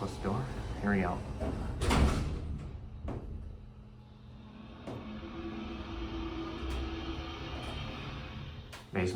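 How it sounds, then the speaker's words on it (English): An early Otis Series 1 hydraulic elevator door sliding shut inside the cab at Rossland Garden Plaza in Whitby, Ontario, a brief rumbling slide and thud near the mic, followed by the steady hum of the car, with a person talking early on. "I forgot to close the door."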